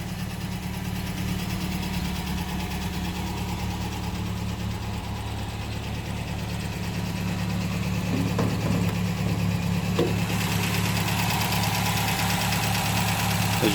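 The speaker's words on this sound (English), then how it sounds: "As you can hear, car's ticking over nicely, good oil pressure." A restored 1960 MG MGA 1600 roadster engine ticks over at a steady idle, a continuous close low rumble with faint mechanical ticking and a few light clicks near the end, with no voices.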